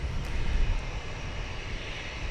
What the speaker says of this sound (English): We do have another Frontier plane lined up.